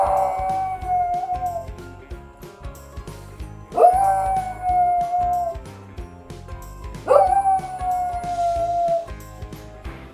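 A dog howls three times in long, drawn-out wails as church bells toll a death announcement. The steady ringing of the bells sounds close and full beneath each howl.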